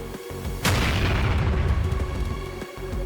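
A drone explosion goes off near Russian troops in war footage: one sudden loud boom with a long rumbling decay under a steady background hum, no voices.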